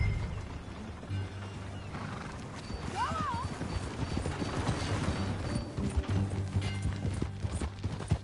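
Horse hooves clip-clop steadily during a ride in Mortal Kombat 11, with a horse whinnying briefly and voices talking over the trotting.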